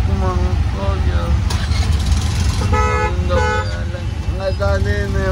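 Busy street traffic in Bengaluru, with car horns honking repeatedly in short toots over a loud, steady rumble of engines, while people talk nearby.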